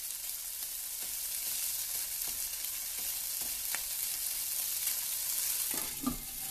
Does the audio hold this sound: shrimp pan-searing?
yes